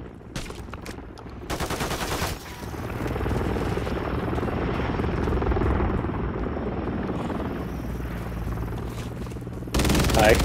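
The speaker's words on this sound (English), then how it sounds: "I actually already have an helicopter." A helicopter in Call of Duty MW3 gameplay gives a steady rotor rumble that fills most of the stretch, with bursts of gunfire at the start and end.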